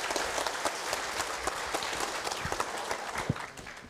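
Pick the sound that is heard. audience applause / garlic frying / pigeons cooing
audience applause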